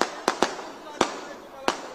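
Firecrackers go off at a political rally, a rapid string of sharp cracks close by over a noisy crowd background, with people talking.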